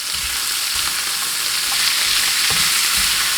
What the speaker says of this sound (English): The bacon will continue to cook with the potatoes.